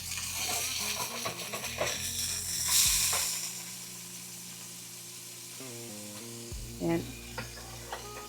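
Smash burger patties sizzle loudly on a hot griddle, with scraping spatula strokes and a clanking flip amid the steady hiss, while someone talks briefly over it.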